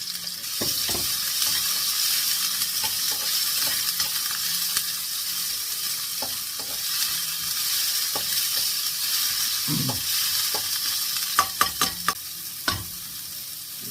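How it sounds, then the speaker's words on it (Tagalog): Onion and pork lung sautéing in a pan for adobo, a soft continuous sizzle with scattered clicks and scrapes of stirring, a few sharper knocks toward the end. "Pwede na natin igisa ang ating baga."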